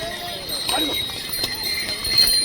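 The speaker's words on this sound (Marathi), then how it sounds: "पण प्रॉब्लेम असा आहे घोडे खूप त्रास देतात." Horses clip-clop along the steep mountain trail to Kedarnath, scattered hoof knocks sounding under steady nearby talk and trail noise.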